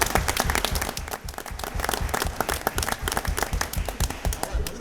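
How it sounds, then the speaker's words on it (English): An audience at a board of education meeting gives musicians a big round of applause, loud, close and steady with distinct individual claps throughout. "we'll give them one more big round of applause."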